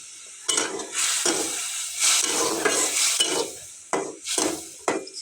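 Hilsa fish curry is stir-fried in a pan, with repeated rhythmic scraping strokes of a spatula over a soft, close sizzle.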